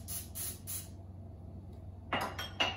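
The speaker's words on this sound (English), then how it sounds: "spray your mug so everything doesn't stick" Cooking spray hisses into a mug in three short, quick bursts, followed by the clink of dishes and a utensil nearby.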